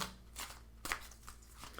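Tarot cards being loosened and shuffled by hand, giving a few soft papery riffles and one sharper burst of flicking, all faint and close with a low steady hum behind.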